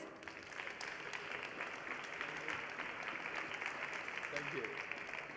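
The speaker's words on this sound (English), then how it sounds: "Let's give them another big round of applause." A conference audience at a food-focused plenary claps in sustained, even applause, a dense patter of many hands heard from within the hall, with a voice briefly audible near the end.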